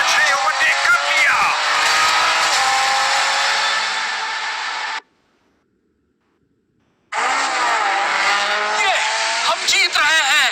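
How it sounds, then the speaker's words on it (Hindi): A car drifting at high speed around a race corner, with a loud, continuous roar of engine and squealing tires, an abrupt silence of about two seconds, then the roar and tire squeal returning with voices over it. "ये तो कॉर्नर पे स्पीड बढ़ा रहा है। इम्पॉसिबल। ये ड्रिफ्ट कर रहा है, वो भी इस स्पीड पे।"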